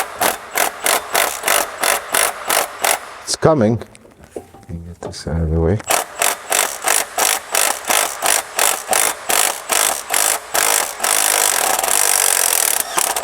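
An impact wrench hammers away on a Toyota engine in a steady train of loud, rapid rattling bursts, stopping for a few seconds while a person speaks and then resuming.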